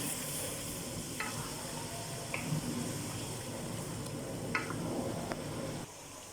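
Chicken korma masala fries in a pot with a steady, fairly quiet sizzle, and a spoon scrapes and stirs at intervals near at hand. No one speaks.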